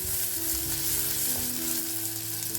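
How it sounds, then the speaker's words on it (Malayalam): Chopped shallots hitting hot oil in a clay pot for a Kerala-style meal, a constant close hiss and crackle of frying with faint stirring, and no voices over it. "ഇതിലേക്ക് ഒരു 10 ചെറിയുള്ളി അരിഞ്ഞത് ഇട്ട് കൊടുക്കാം"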